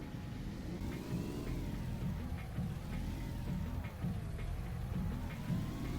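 A car engine from the video game GTA 1, a steady, moderately loud droning hum with a wavering, slightly revving tone that carries on without a break.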